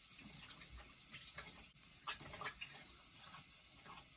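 Water running from a tap for hand washing, a faint steady stream hiss with a few soft splashes and clinks, heard alone at close range.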